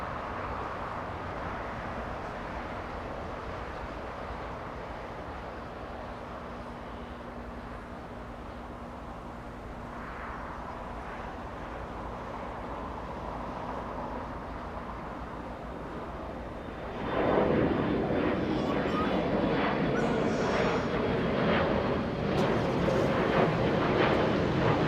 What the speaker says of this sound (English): Is that reverse thrust? On the A320 still?